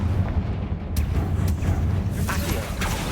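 Booming fiery blasts from the Confringo spell in Hogwarts Legacy, a loud explosion with a rumbling tail followed by further sharp impacts and crackles, close and heavy.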